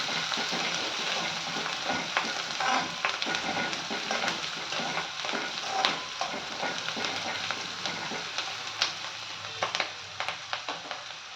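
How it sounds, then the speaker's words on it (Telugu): Onions and curry leaves fry steadily in a pan for a bitter gourd fry, a dense continuous sizzle with scattered crackles and pops, close and fairly loud, with no talking. "ఉల్లిపాయలు అలా వేగితే చాలు"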